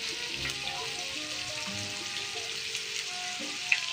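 Chicken karahi, cooked Lahori restaurant style, sizzles steadily in a pan while being stirred, with faint scraping clinks now and then under the constant frying hiss; no one speaks.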